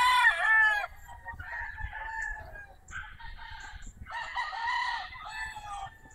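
A White Kelso gamefowl rooster crows loudly several times in succession, close by, with brief pauses between the calls and a faint background hum.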